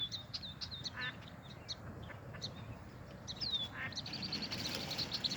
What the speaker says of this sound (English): She told me she saw a duck